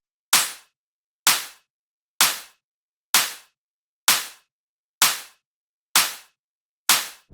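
A single-layer electronic clap sample from a bass house track, struck eight times in an even, slow rhythm, each hit sharp and bright with a quick decaying tail, separated by silence.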